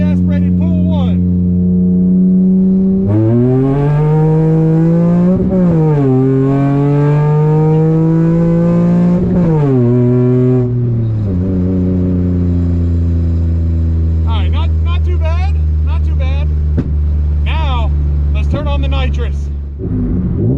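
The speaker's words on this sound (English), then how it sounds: "Let's give this thing a nitrous rip before we have to load it in the trailer." A Ford Taurus sleeper with nitrous revs hard and loud, engine pitch sweeping up and dropping through repeated pulls, then settling to a rough idle with short blips near the end.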